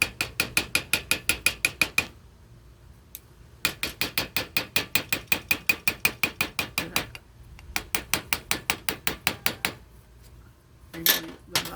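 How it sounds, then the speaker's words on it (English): A hammer tapping a part loose on an AirMaxxx 4x air manifold. Rapid, evenly spaced metallic knocks come in several long bursts with short pauses between them, close and sharp. "You take a hammer."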